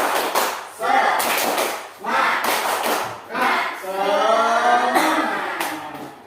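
A classroom of pupils performs a rhythmic spirit clap in several loud bursts of unison clapping, with chanting voices mixed in between the claps.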